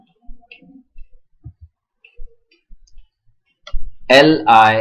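A command is typed on a computer keyboard, producing sparse, quiet key clicks spread out with gaps between them, and then a voice begins speaking.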